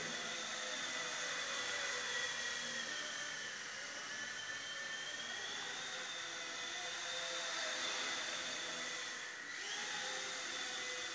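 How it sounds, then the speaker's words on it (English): WLToys V911 mini RC helicopter flying indoors gives a steady, thin, high-pitched whine of its small rotor and motor, faint and continuous with slight pitch wavering and a brief dip near the end. "Now I have not been pushing this heli at all yet, just flying it mellow."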